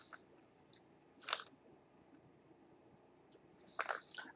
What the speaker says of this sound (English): Let me just chew it up.